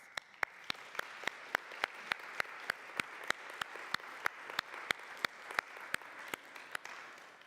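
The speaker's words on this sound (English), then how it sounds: "let's have a little round of applause" Members of a Unitarian Universalist congregation give a round of applause, with sharp, regular claps standing out over a soft, thinner wash of clapping, fairly quiet overall.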